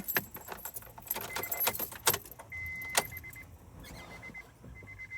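Car keys jangle and clink in bursts near the ignition as the power is switched on, followed by a steady electronic chime tone repeating in the quiet cabin.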